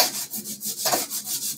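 An aluminum sanding block rubs steadily back and forth over the foam surface of a Freewing F-14 Tomcat model, giving a close, continuous rhythmic scratchy swish with no talk.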